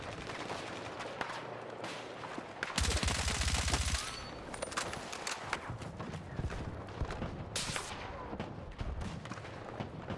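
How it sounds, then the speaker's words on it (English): Gunfire rattles in Battlefield 6 as bullets whiz past, with a dense burst of rapid shots in the middle and scattered cracks around it at moderate loudness. "I just hear the bullets whizzing by me."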